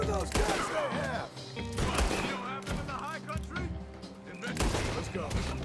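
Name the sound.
gunfire in the video game Red Dead Redemption 2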